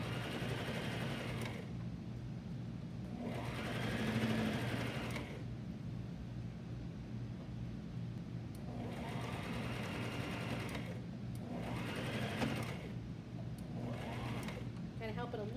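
A sewing machine stitches along the neckline of a boy's pajama top in several steady bursts, its close, even whirring stopping and restarting between runs, with someone talking quietly over it.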